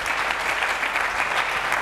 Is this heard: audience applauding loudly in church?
yes